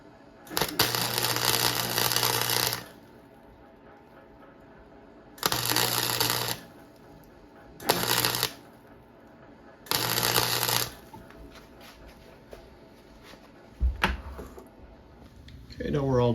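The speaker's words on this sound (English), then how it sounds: "Just going to weld in a blob right here, take a Dremel tool, and clean it up to recreate that little spline" A Dremel rotary tool grinds down a weld blob on the fan shroud spline of a 1943 Gravely Model L tractor, heard as four loud, harsh bursts of whining abrasion separated by quieter pauses.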